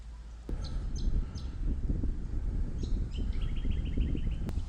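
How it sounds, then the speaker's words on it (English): Birds chirping at a park near Oyster Harbour: scattered short calls and a rapid repeated trill toward the end, moderately near, over a low rumbling outdoor background with wind noise. "Plenty of birds out today, which is nice."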